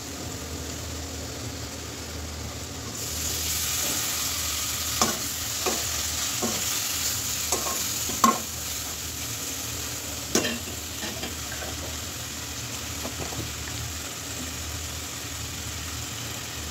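Beef fat sizzling in a hot pan with turmeric and salt while a spoon stirs it, a steady frying hiss with scattered scraping clicks and taps from the stirring, close and loud with no voices.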